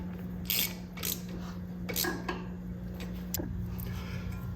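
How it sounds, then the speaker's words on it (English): A ratchet tightens 13mm bolts on Jeep Cherokee XJ brakes during a Dana 44 brake install, giving quick, irregular metallic clicks close up over a low steady hum. "And tighten up these 13mm bolts"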